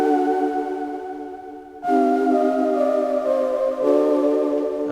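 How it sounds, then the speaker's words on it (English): A sustained synth pad from the Matrix plugin in FL Studio plays stacked chord tones, shifting to a new chord about every two seconds. It is loud and steady, with no voice over it. "this plugin called Matrix, and the pad sound that I picked from it sounds like this"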